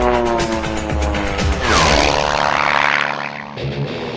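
A small aerobatic propeller airplane roars loudly through a half Cuban 8 manoeuvre, its engine note swelling and shifting pitch mid-pass before settling into a steady drone, with no talk.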